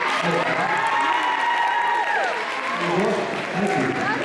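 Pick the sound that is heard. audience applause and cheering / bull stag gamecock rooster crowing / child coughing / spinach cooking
audience applause and cheering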